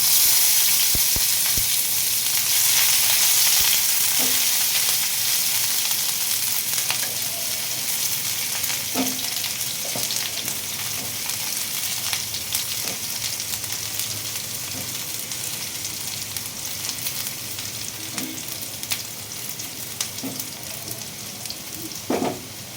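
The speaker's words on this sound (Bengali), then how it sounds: "একটু জিরে ফোড়ন দিচ্ছি শুকনা লঙ্কা একটা দিয়ে দিচ্ছি এরপরে আমি দিচ্ছি পেঁয়াজ কুচানো" Cumin seeds, a dried red chilli and chopped onion fry in hot oil for a curry, giving a steady close sizzle with occasional stirring clinks throughout, no voices.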